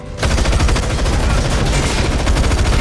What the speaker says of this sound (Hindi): सीधे एक भारी बंदूक उठाई और उन लोगों पर अंधाधुंध फायरिंग शुरू कर दी